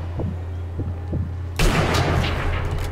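Sniper Elite V2 gunfire: several soft dull thumps, then one loud sharp shot that rings out and fades over the last second.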